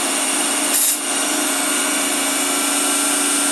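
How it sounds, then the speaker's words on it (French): Small Unimat hobby lathe motor running steadily after lubricant was sprayed on the motor output, a continuous whirring hum with a brief higher whine burst near the start, alone without talk. "tu entends vraiment que le moteur en fait il tourne beaucoup mieux"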